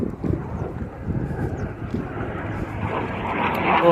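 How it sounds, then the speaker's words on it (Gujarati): An airplane flies over open farmland as a broad, rising engine roar that grows louder toward the end, mixed with wind buffeting the microphone. "ઓહો, પ્લેન આવી ગયો।"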